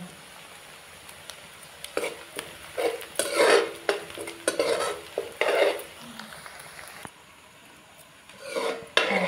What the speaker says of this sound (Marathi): तांदूळ चांगलं परतलो.